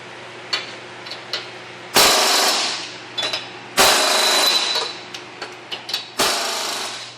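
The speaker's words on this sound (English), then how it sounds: "Now that the axle tabs are on there, it's time to snug up the U-bolts." U-bolts being tightened on a car axle during a Project Valiant suspension install, with three loud bursts of a power impact wrench between light metallic clicks and taps, close and clear.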